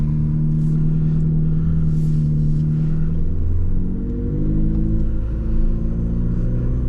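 A 2025 McLaren GTS sports car pulls away with a steady low engine rumble that climbs in pitch as it accelerates, heard loud and close from inside the cabin with no talking.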